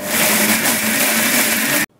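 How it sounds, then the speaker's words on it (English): A kitchen grinder whirs steadily as it grinds fermented nut cheese into a thick, creamy paste, a loud continuous motor roar that cuts off abruptly near the end, with no talk. "Mix well and grind for some more time until you get a thick,"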